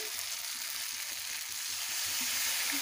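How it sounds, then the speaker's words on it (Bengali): Poppy seed paste with rice and melon-seed paste and a splash of water frying in oil in a pan, a steady bright sizzle running throughout with faint stirring scrapes underneath. "ভালোভাবে পোস্তগুলোকে কষে নেব।"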